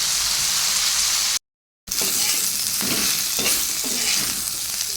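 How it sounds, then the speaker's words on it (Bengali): Ivy gourd (kundri) fries in oil in a pan, a loud close sizzle broken by a brief silence, then continuing with scraping stirs and faint clinks. "হয়ে গেছে কুঁদরি ভাজাটা"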